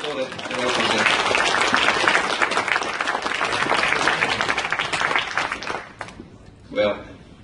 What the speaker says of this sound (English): just a round of applause for the welcome